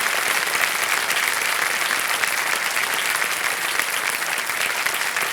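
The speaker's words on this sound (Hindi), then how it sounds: "तालियां बजती रहें जोरदार।" A studio audience on the set of a TV quiz show, Kaun Banega Crorepati, claps in sustained, dense and loud applause that holds steady throughout without a break.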